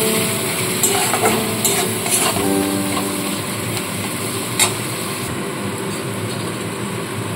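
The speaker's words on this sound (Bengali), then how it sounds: "মশলাটা দিয়ে একটু কষিয়ে নেব" A masala of coriander, turmeric and chilli powder frying in a pan for a fish curry, a loud continuous sizzle with scraping stirring strokes and a few clinks, no speech.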